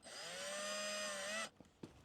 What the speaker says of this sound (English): I'm going to try to get a drill in and drill a hole through.